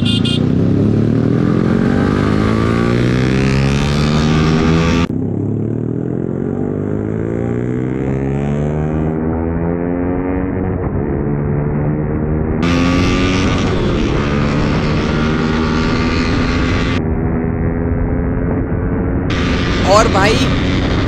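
Yamaha R15 V3 and R15 V4 sport bikes race along a highway, their engines droning close and loud with repeated rising and falling pitch sweeps through gear changes under constant wind rush.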